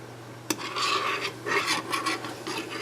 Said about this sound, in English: It's not quite to the boiling point yet, so we're going to keep stirring.